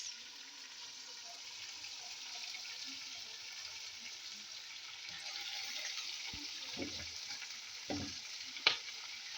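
Vegetables seasoned with turmeric, chili powder and salt sizzle steadily in a pan, with a few scraping stirs and knocks toward the end, close and without talk.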